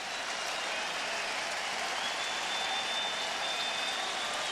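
A distant crowd at the old Yankee Stadium cheers after Andy Pettitte's 2000th career strikeout in the 2008 final game there. The sound is a steady, even roar of many voices with no breaks.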